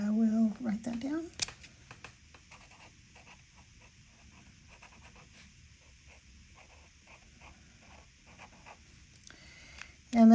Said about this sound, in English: And I will write that down.